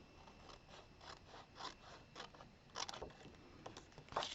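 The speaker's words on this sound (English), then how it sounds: "So I'm going to cut out that corner." Scissors snip out the corner of a slimline paper card, a series of soft, quiet clicking cuts at a close distance with no talking.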